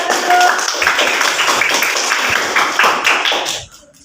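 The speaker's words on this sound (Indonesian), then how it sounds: "Tepuk tangan untuk kelompok 1 dulu." Students in a classroom clap loudly for a group after a cooking lesson, a brief burst of close, crisp hand claps that stops abruptly.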